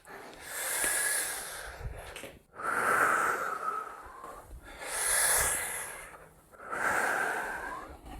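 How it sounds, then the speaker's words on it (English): Slow, deep breaths in and out through the mouth during a guided yoga flow, four long airy cycles alternating inhale and exhale, close and steady with no talking. "breathing in and out through the mouth"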